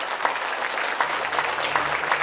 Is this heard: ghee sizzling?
no